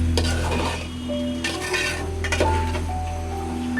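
Chicken being stirred with chickpea lentils in a pot, a spoon scraping and clinking against the metal over a low simmering sizzle, with a steady hum underneath and no voices.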